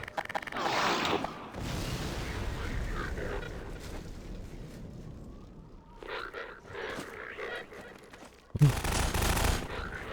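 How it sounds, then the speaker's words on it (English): Gunfire in Half-Life 2: Lost Coast comes as two loud, broad bursts of shots at the start and end, separated by quieter stretches of rumbling game ambience and mechanical noise. No one speaks. "Being shot from somewhere."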